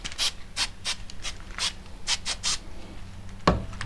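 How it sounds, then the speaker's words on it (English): Shop towel rubbing oil into the crown of a rifle barrel during a home crowning job, giving a string of short, soft scrubbing swishes close by, with a sharper scrape near the end. "use the same towel, it'll actually rub that in instead of just absorbing it all"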